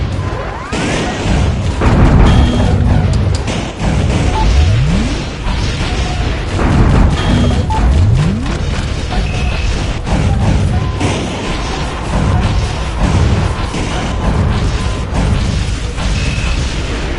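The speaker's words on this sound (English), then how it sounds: "The missiles are airborne." Missile strikes exploding in a video game, a dense run of loud booming crashes and smashing impacts over about seventeen seconds, with a steady background rumble and no talk.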